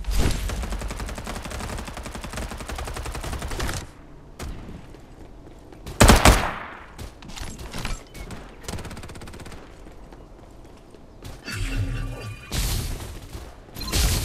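Gunfire in the video game Farlight 84, with bursts of rapid automatic shots, a sharp loud blast near the middle and scattered pauses between volleys, close and dominant.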